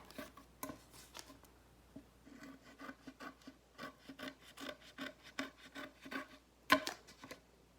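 Scissors cut all the way around a circle, producing quiet, close snips and rasping rubs in an uneven series, with a sharper clack near the end.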